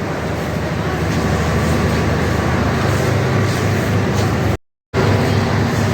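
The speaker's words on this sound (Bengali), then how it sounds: "অবশেষে অপেক্ষার পর শেষ হলো বুড়িমারি এক্সপ্রেস ছেড়ে দিয়েছে" The Burimari Express pulls away with a steady, loud broadband rumble throughout, briefly cut to silence near the end before the heavy rolling noise resumes.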